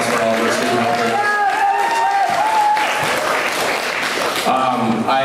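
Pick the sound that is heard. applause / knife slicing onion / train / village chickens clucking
applause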